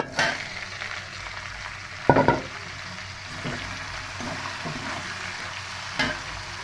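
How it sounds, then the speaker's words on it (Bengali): Onions frying in oil in a pan for biryani, a steady broadband sizzle with a few louder bursts of stirring or scraping, close and continuous, no voices. "এবার পেঁয়াজের পেঁয়াজটা ভেজে নেব ওই তেলেই দিয়ে দেবো পেঁয়াজ"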